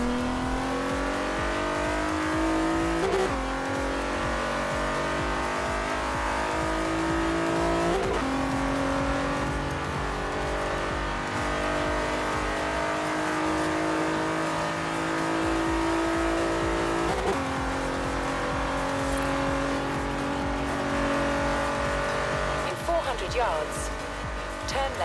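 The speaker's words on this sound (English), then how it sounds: "make the run all the way down the airstrip and see what mile per hour we're able to hit" A Nissan 350Z (Z33) with bolt-on modifications accelerates flat out down an airstrip on a speed run, its engine climbing loudly through several gear changes with brief dips at each shift, steady and close for the whole stretch.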